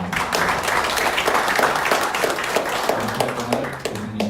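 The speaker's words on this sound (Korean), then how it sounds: "큰 박수로 맞이해 주시면 감사하겠습니다" An audience at a Korean political science forum on conservatism applauds to welcome a speaker, a dense, steady patter of many hands clapping close by that carries through the whole stretch, with faint voices underneath toward the end.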